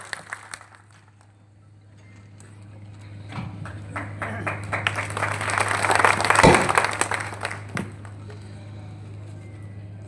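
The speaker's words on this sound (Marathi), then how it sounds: "एकदा हातवरती जोरदार टाळी" A crowd claps at an outdoor political rally in Pal near Karad, applause swelling to a loud peak in the middle and easing off toward the end, over a steady low hum from the sound system.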